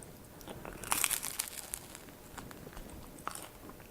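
Crunchy bites into a crispy homemade sourdough bagel, a few close crackling crunches with chewing around the middle, then quieter mouth sounds, no talking.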